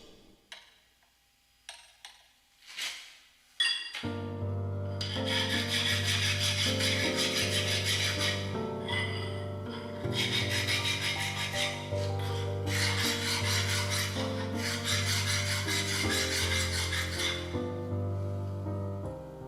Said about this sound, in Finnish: Levy keikkuu, koska siinä on yksi korkea kulma, jonka tässä viilaan pois.